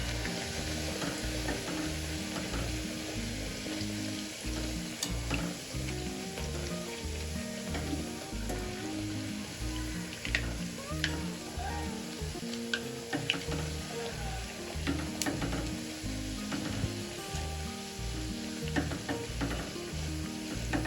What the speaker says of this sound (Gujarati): આ રીતે બધી પૂરી એક સાથે આપણે તળી લઈશું.